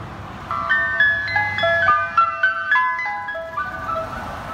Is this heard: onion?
no